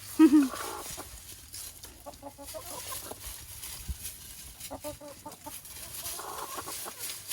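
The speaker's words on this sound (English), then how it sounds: "just gave the chickens their cilantro" Backyard chickens eating fresh cilantro give soft, scattered clucks and murmurs, with one louder call at the start. The sounds are faint and close, and a person speaks quietly in places.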